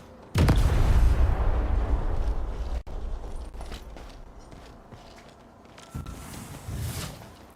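An explosion in the video game Arknights Endfield bursts loudly with a deep boom, then rumbles and fades, followed by a few clanks and a smaller second thud near the end.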